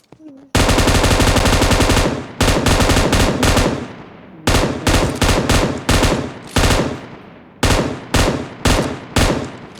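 Loud, close gunfire in PUBG Mobile: a long sustained automatic burst followed by a series of short, rapid bursts separated by brief gaps, each cutting off sharply.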